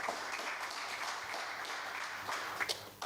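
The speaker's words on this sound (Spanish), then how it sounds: "Dale un fuerte aplauso al Señor" Congregation applauding during a church service, a dense, continuous patter of many hands clapping at moderate volume, with a few sharper claps near the end.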